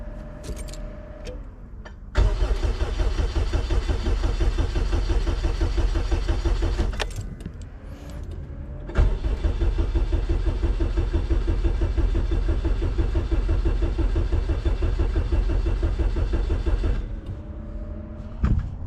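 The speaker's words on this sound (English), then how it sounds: "it should fire the car over if everything else works well" A Honda K20 engine in an EF wagon, push-button started straight from the battery, catches and runs in two long stretches of steady, loud, close idle with a brief drop between them; no talking.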